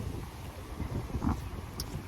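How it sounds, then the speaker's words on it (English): Strong wind buffeting the microphone on a city street in Brussels, a steady low rumbling roar throughout with brief faint sounds poking through. "Oh, the wind is so hard."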